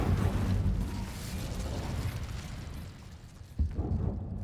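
Incendio fire spell cast in Hogwarts Legacy, a dense roaring whoosh of flame that fills the moment, fading slightly before a brief burst near the end.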